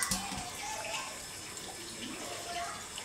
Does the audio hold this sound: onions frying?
no